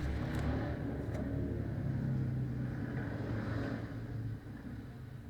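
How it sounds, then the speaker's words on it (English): A noisy car engine revving, a steady loud low rumble that holds for several seconds and then eases slightly toward the end, with no talk. "Why have a noisy engine like that?"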